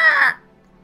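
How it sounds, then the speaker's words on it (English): A single loud crow-like caw used as a bird call in the video game Shardlight, sharp and close, cutting off quickly into near silence. "I programmed in a bird call."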